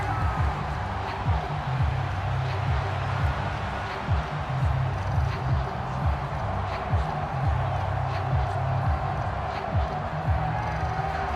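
A stadium crowd at a Packers versus 49ers football game applauds and cheers for the defense in a steady, broad wash of clapping and voices that holds at an even level throughout.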